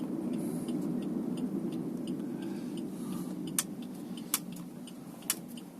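A 2013 Suzuki Ertiga GX automatic makes a U-turn, heard from inside as a low, steady engine and road hum, with three sharp clicks near the end.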